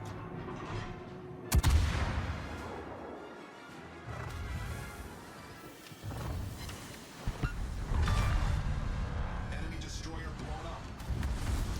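Ship guns fire in World of Warships gameplay, with a sharp nearby blast followed by scattered booms and rumbling explosions over several seconds, partly under someone talking.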